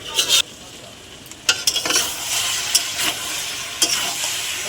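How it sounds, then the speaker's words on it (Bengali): A fish-head and cabbage curry with chili powder is stirred in a pan, steady sizzling frying under sharp scraping strokes of a spatula against the pan, close and loud with no talk. "ভালো করে নেড়ে নেব"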